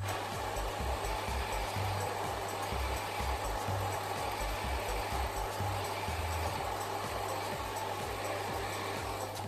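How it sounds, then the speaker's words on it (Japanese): Hair dryer blowing continuously while drying hair after it was misted with water and combed, a steady close whoosh with a low motor hum and no talking. "ドライヤーで乾かしていきます。"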